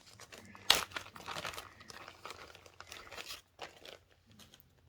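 Dry crinkling and rustling of tea bags handled up close, with a sharp crackle near the start followed by irregular papery crunches and rustles that fade toward the end.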